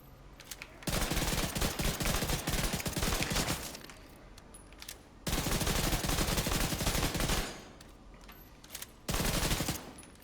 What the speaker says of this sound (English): you can just flutter the trigger and get more controlled fire